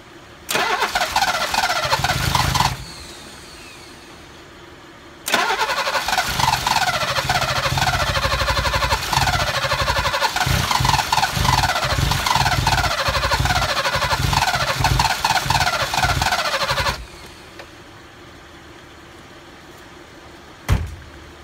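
A 1969 Mercedes 280SE with mechanical fuel injection, running rich, cranks and fires up twice, running loud and close with a rough, uneven idle. It shuts off between runs and again near the end, followed by near silence.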